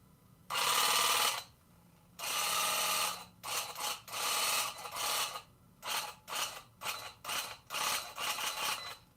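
A tufting gun on its fast setting fires in loud rapid mechanical chatter, starting with two long sustained bursts and then a run of short quick clicks with brief silences between them, close up and alone.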